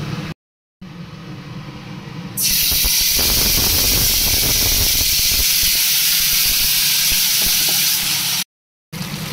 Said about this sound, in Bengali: কালো জিরে ফোড়নটা দিয়ে দিলাম। এবার এটা যে একটু ফুটে যাবে